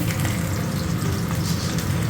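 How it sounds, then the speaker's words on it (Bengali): Fish frying in a hot pan on a home kitchen stove, giving a steady, dense sizzle that continues without a break throughout, close to the pan with no voices. "দেখো মাছ ভাজা হচ্ছে"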